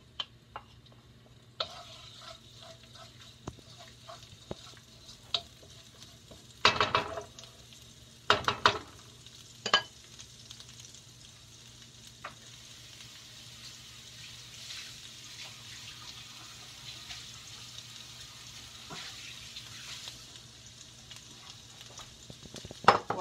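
Quiet, steady sizzling of ginger and garlic frying in a pan, with occasional sharper clatters and scraping of stirring, and no talking.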